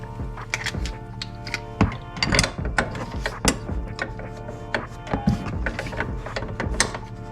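Ratcheting wrench working suspension bolts on a Ram 3500 hotshot truck during a Bilstein suspension install in a cramped space, with rapid repeated ratchet clicks, metallic clunks and knocks in uneven bursts close to the mic.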